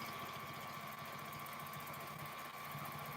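A home sewing machine quilting feathers on a large quilt runs steadily and close by, a continuous whirring hum with fast stitching pulses and no pauses.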